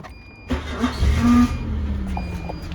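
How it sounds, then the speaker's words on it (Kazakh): A parked car that had sat unused for a while is started, with a short cranking burst that catches into a loud rev, then settles into a steady idle nearby. "Көлікті оталдырып жүрейін кішкене."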